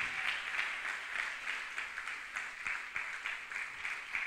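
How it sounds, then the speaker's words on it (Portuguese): A church congregation applauds at a Bible study on the Book of Ezra, a steady wash of many hands clapping that swells slightly in rhythmic pulses, moderately distant and filling the room without talk. "Pode aplaudir mais forte."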